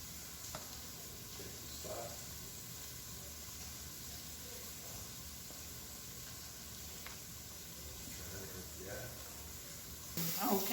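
Biscuit dough of flour, milk and oil is stirred in a bowl, making a faint, wet, squelching swish that repeats softly throughout.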